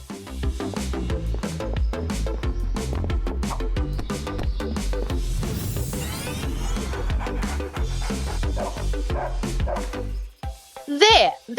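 A dog barks near the end of a lively children's alphabet song, a short sharp yap rising loud and clear as the bouncy music drops away.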